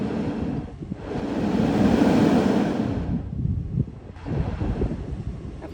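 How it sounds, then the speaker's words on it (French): A rushing, breathy gush of air from a seaside rock blowhole swells loudly for a couple of seconds and then subsides, repeating against a steady roar of wind and surf. "Là, on n'a que des geysers d'air et pas de geysers d'eau."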